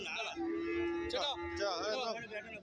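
Cattle moo loudly and close by at a livestock market, several drawn-out calls in quick succession, with faint background noise of a busy outdoor place.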